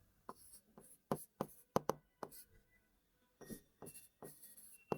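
Pen scratching across paper as given data for an electrical power problem is written out by hand, short close strokes in irregular bursts separated by brief quiet gaps.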